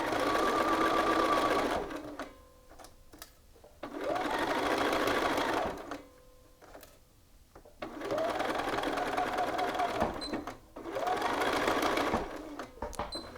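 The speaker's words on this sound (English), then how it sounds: "make sure everything's aligned, and stitch across" A sewing machine stitches across a shirt yoke in three bursts of steady, fast whirring, each a couple of seconds long, separated by quiet pauses with faint handling sounds.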